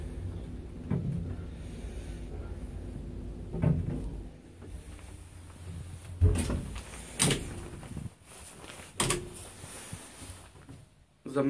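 An elevator door in a modernized Warsaw apartment-block lift slides and clunks, with several thumps and rattles at moderate loudness amid cabin noise.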